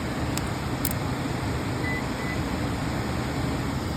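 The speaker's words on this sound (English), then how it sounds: "Emergency heat is working." An HVAC system with a low-voltage short, running on emergency heat, gives off a steady, even broadband hum for the whole stretch, with a couple of faint brief beeps early on and no talking.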